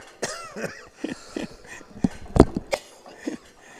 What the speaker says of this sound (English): He had a cough.